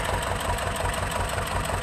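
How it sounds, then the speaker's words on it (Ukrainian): A T-25 tractor engine drones steadily while ploughing a field, a low, rough, continuous rumble heard up close with no talking. "Тракторець, я ж кажу, пере як танк."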